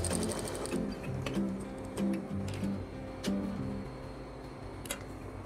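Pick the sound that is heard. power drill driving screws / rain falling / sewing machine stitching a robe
sewing machine stitching a robe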